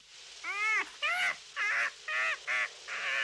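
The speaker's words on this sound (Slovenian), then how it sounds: "Bratec Galeb, kaj se je zgodilo?" A cartoon seagull calls in a children's animated show, six harsh, squawking cries in a quick uneven series, loud and close, with nothing else beneath them.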